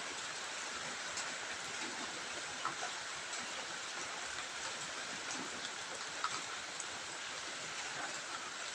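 Steady rain falls continuously with a dense, even hiss and occasional louder drops, no voices present.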